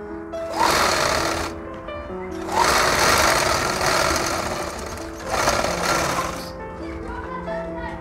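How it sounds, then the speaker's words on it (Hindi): A sewing machine stitches the pleats of a ready-made saree in three bursts of fast, close mechanical whirring with short pauses between them, while a person talks over it. "ये आपका सिलाई लग गया है, ये देखिए लॉक हो गया है"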